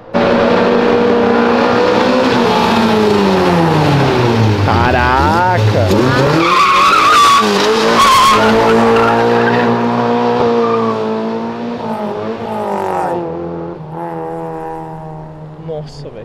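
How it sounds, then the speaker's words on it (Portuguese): A light car skids on spilled oil at a car-meet exit, its tires squealing in long sweeping tones over a steady engine roar, loud and close, fading slightly toward the end while people talk nearby. "Escorregou no óleo? Escorregou um pouquinho. É perigoso o óleo."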